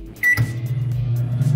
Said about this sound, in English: Now this is about 1100 watt microwave oven.